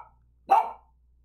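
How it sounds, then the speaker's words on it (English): A single sharp bark from a dog indoors, loud and close, standing alone in a quiet room with faint background hum. "he had to go bark at a truck or something"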